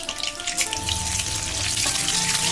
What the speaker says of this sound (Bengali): সর্ষের তেল দিয়ে দিলাম, দারচিনি, লঙ্কা, লবঙ্গ, তেজপাতা